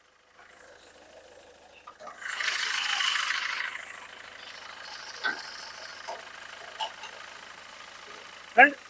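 A 2012 Nissan Sunny car engine idles, then revs up for a couple of seconds before settling back, with a few clicks and rattles nearby.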